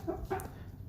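A pet chicken, a Japanese-origin breed rooster resting on a lap indoors, gives a few soft, close clucks in quick succession, then falls quiet against low background hum.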